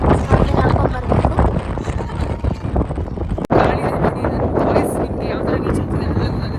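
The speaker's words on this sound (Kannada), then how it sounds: "ನೋಡಿ ಇಲ್ಲಿ ಎಷ್ಟು ಗಾಳಿ ಇದೆ, ನೀವು ನೋಡ್ಬೋದು." Strong, cold wind gusts buffet the microphone on the hilltop at Mullayanagiri in Chikkamagaluru, a loud and continuous broadband roar with a brief dropout midway.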